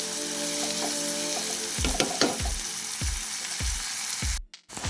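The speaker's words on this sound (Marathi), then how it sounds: "आता हे आपण लालसर असं भाजून घेऊया म्हणजे तेलामध्ये पतून घेऊया" Onion, tomato and chilli fry in hot oil for upma, a constant sizzle broken by a run of five or six sharp spatula taps against the pan, ending in a brief dropout.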